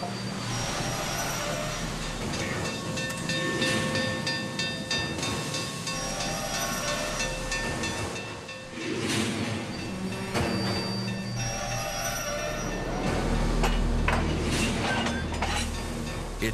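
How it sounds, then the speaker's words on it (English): Union Pacific Challenger No. 3985, the largest operating steam locomotive, roars past with a steady heavy rumble and hissing steam, loud and continuous throughout. "It's the largest steam locomotive still operating in the world."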